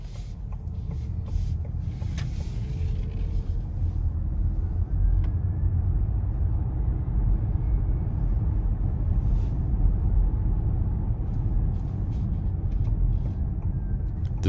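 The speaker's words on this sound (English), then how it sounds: "The vehicle picks up speed really easily, and there's no hesitation from the throttle since it is instantaneous through the electric motors." A 2021 Ford Mustang Mach-E Premium electric car cruises and accelerates, giving a steady low road and tire rumble with faint interior noise throughout, no engine roar and no talk.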